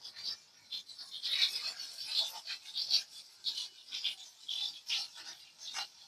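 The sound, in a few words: stirring onions in a pan for mango chutney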